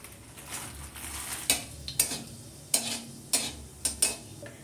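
Fennel seeds crackle and fry in hot oil, with a steady low sizzle broken by several sharp clicks and metal scrapes of stirring, close up and with no talking.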